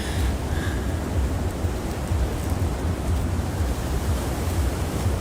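Ocean waves break on the shore before first light on Christmas morning, a steady, broad wash of surf heard from close by, continuous and fairly loud with no voices.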